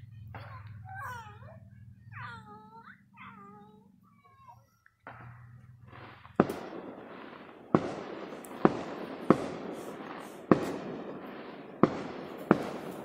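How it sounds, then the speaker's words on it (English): Fourth of July fireworks and bottle rockets bursting in the distance, about eight sharp separate cracks and pops over the final seven seconds, following earlier unclear voices and a low steady hum. "They got fireworks off over there as well, firing out."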